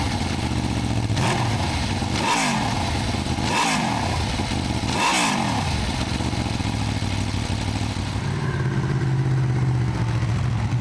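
An Aprilia RSV4 superbike engine, a 180-horsepower machine, revs loudly and close by in several sharp rising-and-falling bursts, then settles into a steadier drone. No one talks.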